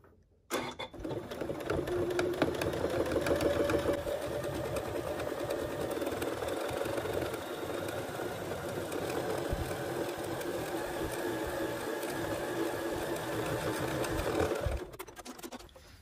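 Sewing machine stitching the brim of a fabric sun hat, running steadily and close for about fourteen seconds before stopping, with no talk over it.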